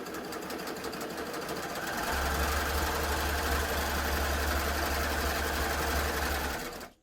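A Baby Lock Gloria combination serger stitching a rolled hem on its rolled-hem setting, running in a steady, close, continuous mechanical whir that begins as a lighter rattle and settles into a loud, even hum until it stops.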